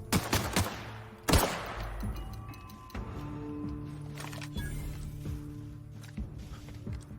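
Gunfire in The Outer Worlds on Xbox One: sharp shots and bursts of weapon fire, some close and loud, others quieter, scattered irregularly over ambient game sound.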